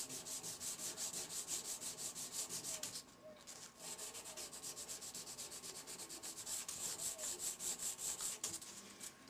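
Rhythmic back-and-forth rubbing of sandpaper on metal guitar frets, steady strokes repeating quickly with one short pause, close and fairly quiet.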